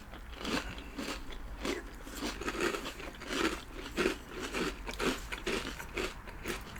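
Crunchy breakfast cereal bitten and chewed close to the mouth, a quick series of sharp crackling crunches in an uneven chewing rhythm, quiet but distinct, with no talking.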